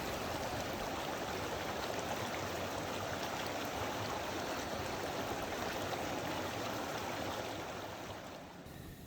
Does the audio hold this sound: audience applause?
no